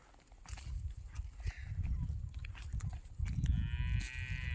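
A pair of Khillar bulls moves about nearby, with heavy hooves scuffing and thudding on the ground and a low moo rising toward the end, a harsh tonal whine cutting in over it.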